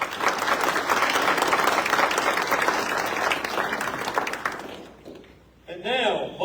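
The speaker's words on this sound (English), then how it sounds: "Please join me in a round of applause for all of our guests." Audience applause fills a military assumption of command ceremony, steady and dense for about five seconds, then fading out before a voice begins speaking near the end.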